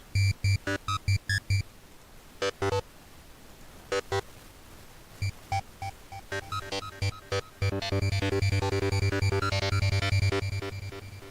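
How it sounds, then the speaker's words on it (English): A wavetable synth plays a sequence of short, bright tonal stabs in an irregular pattern with gaps, then shifts into a denser, continuous sustained pattern toward the end. "Let's see if this works as a synth sound, as a sequence."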